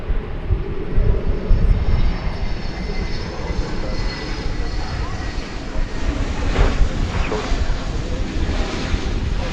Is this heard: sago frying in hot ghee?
no